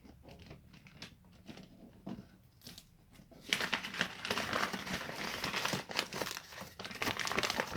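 Parcel packaging crinkles and rustles during an unboxing, softer scattered crackles at first, then continuous loud plastic crumpling close to the microphone.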